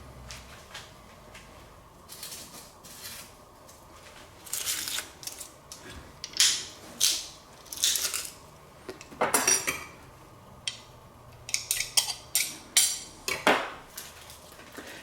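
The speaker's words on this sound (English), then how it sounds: "let's crush our garlic into the mix" A garlic press crushes garlic cloves for a mussels and pasta dish, giving a run of sharp metallic clicks and clanks that grow louder and more frequent toward the end, close up and with no talking.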